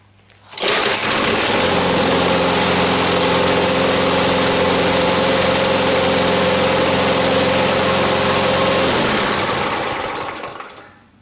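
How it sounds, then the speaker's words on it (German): A petrol lawn mower engine starts up and runs at a steady idle for about ten seconds, loud and close with a constant buzzing drone, then is cut off at the end. "den Rasenmäher erst einmal starten"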